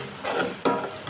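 A curry gets stirred in a pan right after turmeric goes in, with soft scraping strokes and a light sizzle; two or three short stirs over about a second, close and moderately loud.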